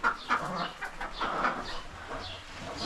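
Chickens cluck and murmur inside a chicken coop during cleaning, with several close, overlapping clucks and short calls continuing throughout at moderate volume.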